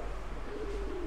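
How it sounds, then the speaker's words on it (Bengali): Pigeons coo softly outside a pickle shop at a temple town, a low rolling coo rising near the end over a steady background hum, with no talking. "এখানে কি সুন্দর পায়রা রয়েছে দেখুন"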